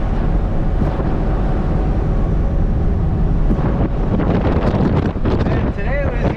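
Breezy wind buffets and rushes continuously around a Hino box truck being driven, a loud steady roar with gusty fluctuations.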